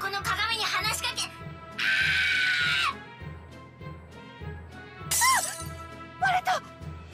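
A magic mirror shatters in the video game One Piece Pirate Warriors 4: a single bright, glassy burst lasting about a second, set among character voices and a pulsing game soundtrack.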